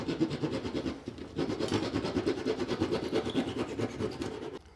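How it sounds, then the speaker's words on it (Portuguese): A hand saw cuts a wooden dowel's excess flush with the surface of a joint, a quick rhythmic rasping of back-and-forth strokes, close and fairly loud, with a brief pause partway through. "Esse excesso agora a gente corta com o serrote rente."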